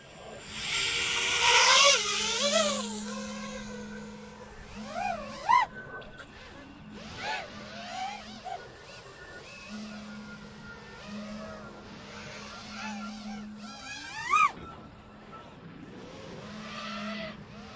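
A GEPRC Mark5 freestyle quadcopter with 2107.5 motors whines through its flight, with whirring tones that swoop up and down in pitch and several sharp throttle surges, fairly distant and without talking.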